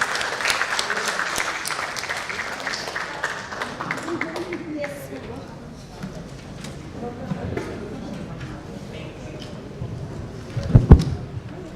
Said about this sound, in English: Please give another big round of applause for our speakers and our honorable moderators.